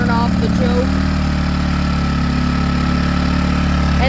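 Predator 1400 watt inverter generator engine running steadily after a pull start, a loud continuous mid-pitched drone with a slight change in tone early on, alone without talk.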